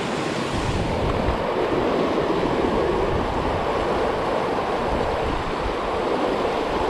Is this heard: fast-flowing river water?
yes